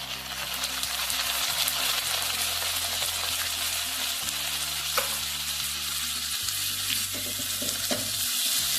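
Chopped onion and tomato fry in a pan over a low gas flame, giving a steady close sizzle with occasional scraping stirs and light utensil clicks throughout.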